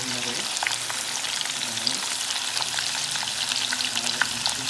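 Garlic and onion sautéing in a pan for coconut-milk milkfish and tilapia paksiw with okra, a steady close sizzle with scattered stirring clicks and a faint hum beneath.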